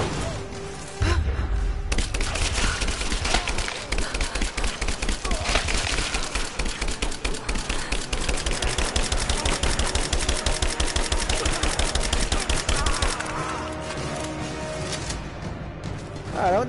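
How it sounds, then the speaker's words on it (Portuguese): Sustained heavy gunfire in Rise of the Tomb Raider on PS4, a loud, continuous stream of rapid shots lasting most of the stretch before easing off near the end, with a voice talking underneath. "Caramba, deu um monte de tiro no cara, o cara não morreu."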